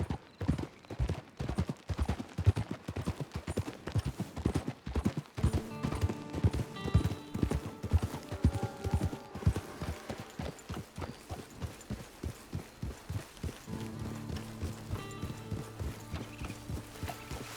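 Steady clip-clop of horse hooves trotting at an even rhythm in the video game Red Dead Online, with a neigh and a faint musical score underneath.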